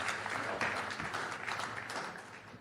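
Audience at the NDTV World Summit 2024 applauds a chess legend, a steady wash of clapping filling the room for a couple of seconds before it begins to thin.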